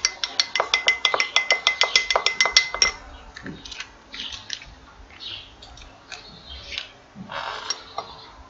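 Rapid, regular clinking of a utensil against glass as melted soap base with yellow dye is stirred briskly for about three seconds, then a few softer scattered taps and scrapes.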